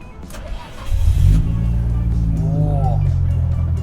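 A loud Nissan RB28 engine with high-lift cams in an R34 GT-R with GT-SS turbos rumbles up and settles into a lumpy, uneven idle after a brief rev, close by, with a low throbbing tone.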